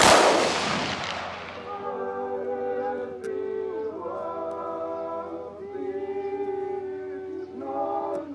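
A rifle volley fired at a commemoration ceremony, one loud simultaneous crack that booms and fades, followed by a sustained brass or bugle-like tone carrying on alone.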